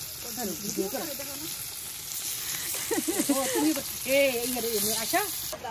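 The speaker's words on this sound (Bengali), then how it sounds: "এদিকে আবার রুই মাছ ভাজা হচ্ছে" Rohu fish frying in a pan in a village kitchen, a continuous sizzle running beneath several people talking.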